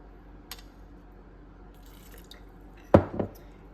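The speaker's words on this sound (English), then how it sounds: "we're just gonna add a little bit more water." A faint drip early on, then a short wet splash of water poured into a jar of dry sourdough starter, fading quickly; quiet otherwise.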